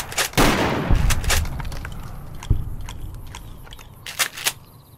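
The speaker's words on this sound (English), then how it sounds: "I'm sniping them with buckshot" Shotgun blasts of buckshot in Fallout: New Vegas, several sharp, loud booms spaced irregularly through a combat scene with lingering rumble between shots.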